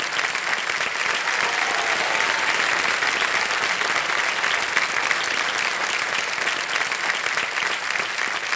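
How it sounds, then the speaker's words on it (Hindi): Sustained studio-audience applause on a television quiz show after a contestant wins a prize, steady and dense throughout, with no talk over it. "तालियां बजती रहे इनकी।"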